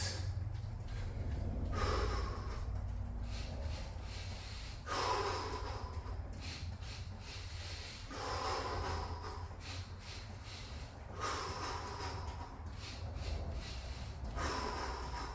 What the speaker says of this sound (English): Inhale, exhale. Inhale, exhale.